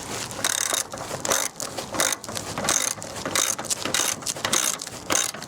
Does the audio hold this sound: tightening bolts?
yes